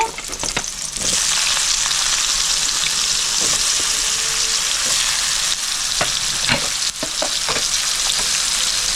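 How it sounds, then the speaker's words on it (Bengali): Bottle gourd pieces fry in hot oil in a pan, a loud continuous sizzle with scattered spatter pops and stirring scrapes, close and steady for the whole stretch. "এবার আমি লাউটাও দিয়ে দিচ্ছি। লাউটাও আমি হালকা লাল করে ভেজে নেব।"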